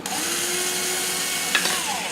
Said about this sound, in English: we're going to put our 1/16 inch bit through this hole and go into the hole of the middle piece of wood, and we'll drill through the plastic